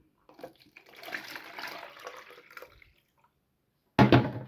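Brine from fermented sauerkraut pours out in a steady liquid splash that runs for about three seconds and then stops, followed by a short, louder burst of pouring near the end.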